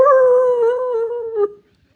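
A person imitates a dog's howl with their voice, a single loud sustained wavering note that drops slightly in pitch and cuts off sharply after about a second and a half, close and clear with no other sound.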